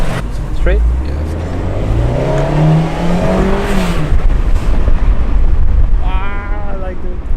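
A Fiat 124 Spider driving at an auto show in Houston, its engine note rising and falling steadily under loud ambient noise, with people talking nearby throughout.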